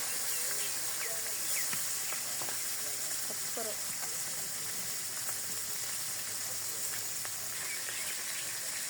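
Fish frying in hot oil, a constant close hiss and crackle with scattered pops, and faint talk underneath.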